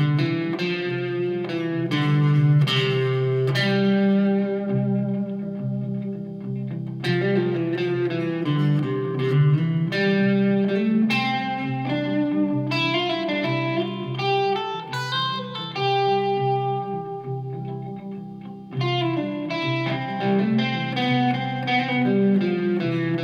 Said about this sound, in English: we're going to kick on a little bit of distortion and some reverb